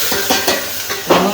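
Vegetables sizzle and crackle in hot oil as khichdi is tempered in a home kitchen, loud and close, with spoon-stirring scrapes breaking through in a few short bursts.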